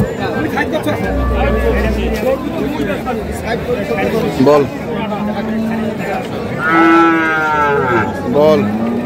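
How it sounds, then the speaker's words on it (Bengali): Cattle low loudly at a busy cattle market, several drawn-out moos rising above a constant babble of crowd chatter and nearby voices. "এখানে আরেকটি গরুর দরদাম করছেন আলম ভাই"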